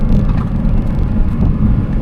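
A Porsche 718 Spyder RS with a 4-litre engine drives on the Millbrook hill climb circuit, producing a loud, close, steady low engine rumble with no talking.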